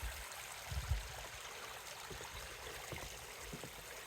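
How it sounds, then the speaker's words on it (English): Creek swollen and running fast after heavy rain, a steady broadband rush of water with a few low thumps, fairly faint and continuous with no one talking. "There's this creek that's running like crazy because all of the rain."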